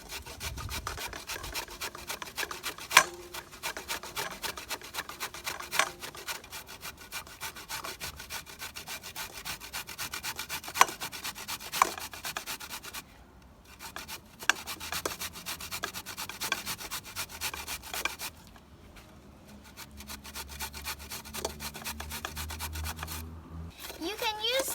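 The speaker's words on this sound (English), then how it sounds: "So we're going to start grating the baby marrow." Baby marrow scraped across a kitchen grater in quick, steady rasping strokes, close and crisp, with a few brief pauses between runs.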